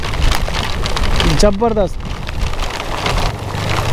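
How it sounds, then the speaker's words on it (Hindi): Heavy monsoon rain pours down at Malshej Ghat in Maharashtra, a dense, loud wash of rain and wind noise throughout, with a voice speaking briefly partway through. "भाई क्या तूफान आ गया।"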